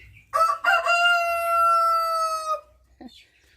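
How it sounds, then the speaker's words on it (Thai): A rooster crows once loudly and close by in a backyard coop of egg-laying hens, a long harmonic call ending with a short cluck and faint background sounds. "นี่อันนี้เป็นไก่พันไข่นะคะ"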